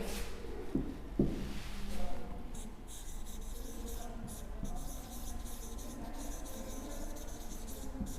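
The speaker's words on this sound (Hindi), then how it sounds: "तो मैं इसको इरेज करके फिर से लिख देती हूँ यहाँ पर" Marker or chalk scratches and rubs across a board in a Class II English lesson as writing is erased and rewritten, with short scraping strokes and soft wiping over quiet room noise and a faint voice.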